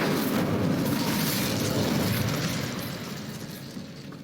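A Confringo blast spell exploding in the Hogwarts Legacy video game, heard as a loud, dense roaring burst that holds steady and then slowly fades, with no voices.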